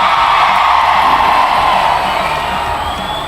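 A large crowd at an Indonesian political rally shouts and cheers, a dense, loud wash of many voices that holds steady and then eases slightly toward the end.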